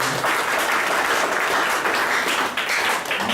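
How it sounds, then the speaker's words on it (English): A crowd applauds after a talk, thick continuous clapping from many hands at full volume with no pauses, filling the whole moment. "Give him a round of applause again for beautiful talk."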